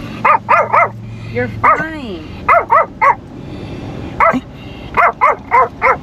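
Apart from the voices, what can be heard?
small dog barking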